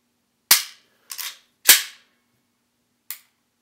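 A Walther PPX pistol dry-fired gives four sharp, close metallic snaps in an uneven rhythm, each decaying quickly into silence, with no speech.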